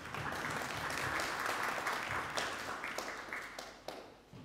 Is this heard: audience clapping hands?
yes